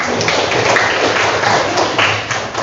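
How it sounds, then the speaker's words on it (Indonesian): A classroom of students claps together in dense, steady applause for about three seconds. It sounds close and fairly loud, with no talking over it. "Tepuk tangan untuk kita."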